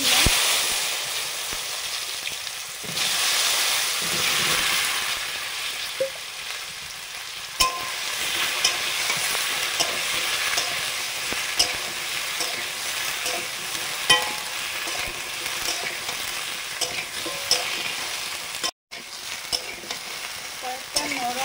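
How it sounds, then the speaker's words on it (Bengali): Okra fries in mustard oil in a wok, giving a constant close sizzle with scraping stirs and occasional spatula knocks. "সর্ষের তেল দিলাম কড়াতে। প্রথমে ঢেঁড়সগুলো ভেজে নেব।"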